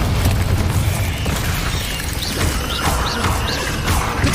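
Loud explosive bursts from the Confringo blasting spell in Hogwarts Legacy, a dense continuous roar of booms and crashes filling the whole stretch, with short whistling tones flickering over the top.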